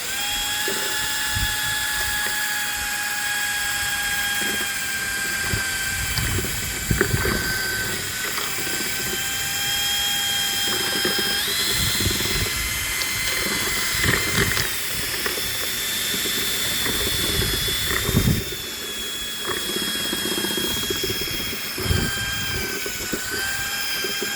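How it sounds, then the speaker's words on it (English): An electric drill with a mixing attachment stirs pond water treatment, a steady mechanical whirring and grinding running continuously, with occasional rattles and clunks over a constant hum. "And I'm going to mix it up using my old-fashioned drill"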